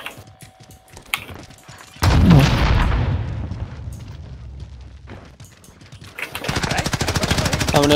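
Gunfire in Call of Duty Warzone (Cold War era): a sudden loud blast followed by rumbling booms, then a burst of rapid automatic fire near the end.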